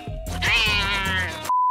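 A cat lets out one long, drawn-out meow, loud and close, followed by a sudden steady electronic beep.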